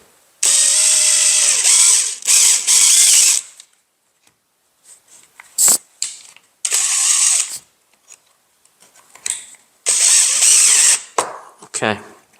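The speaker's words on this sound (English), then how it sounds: "These teeth are gonna grab the board, and we're gonna run a screw." A power drill drives screws into a wooden board on a woodworking bench in several loud whirring bursts with ratcheting clutch clicks, separated by quiet gaps.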